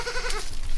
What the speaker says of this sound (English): You got this, mama goat.